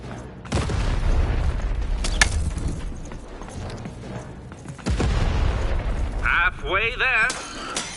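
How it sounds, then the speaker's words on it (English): Cannon fire in a video game: two heavy booms land several seconds apart amid game sound effects, with a voice speaking in between. "Shoot the button to fire the cannon."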